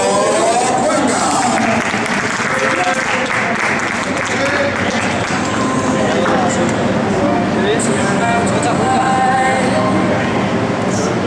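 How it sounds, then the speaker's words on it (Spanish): Loud sustained applause and cheering from a crowd welcomes a karting champion at the podium, a dense steady roar running throughout under a booming announcer's voice. "se hace el silencio para recibir con una fuerte ovación al campeón categoría más 75"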